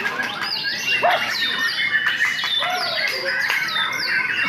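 A caged white-rumped shama (murai) in breeding condition sings a bright stream of varied whistles, chirps and trills, close and fairly loud, with short overlapping phrases continuing throughout.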